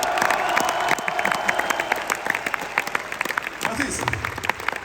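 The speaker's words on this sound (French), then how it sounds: "On peut l'applaudir." A live concert audience at the Palais Nikaïa in Nice breaks into clapping, a dense burst of many hands close and loud, mixed with some crowd noise and a voice.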